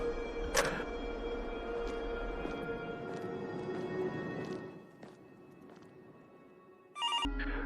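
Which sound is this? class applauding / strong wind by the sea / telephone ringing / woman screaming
telephone ringing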